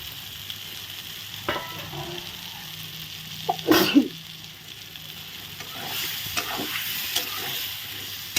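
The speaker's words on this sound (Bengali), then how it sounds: "আলুটা দিয়ে ভালো করে নেড়ে চেড়ে আরেকটু মশলা কষিয়ে নেব" Potatoes with spices fry in plenty of oil with a steady sizzle, broken by several scraping stirs of a spatula in the pan and a louder burst of crackling midway; no one speaks.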